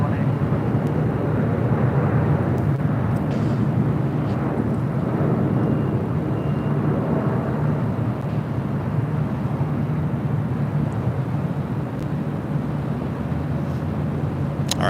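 A Korean Air airliner taking off from runway 24 left at LAX, a continuous loud engine roar and rumble held steadily throughout at medium distance.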